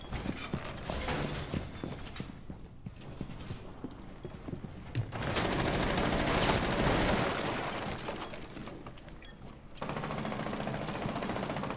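Gunfire in Rainbow Six Siege, bursts of rapid shots and clattering mechanisms, fairly faint and mixed with game noise, growing denser for a few seconds midway.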